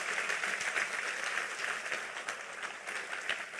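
A church congregation claps together in a sustained round of applause, a thick wash of hands that swells and eases slightly, with no voices over it.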